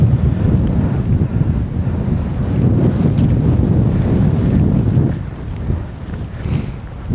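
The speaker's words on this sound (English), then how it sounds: "I'm going to be back to feeling that sea breeze so much more." Sea breeze gusting on the coast at Stepper Point, a loud, steady low rumble of wind buffeting the microphone that eases briefly before picking up again.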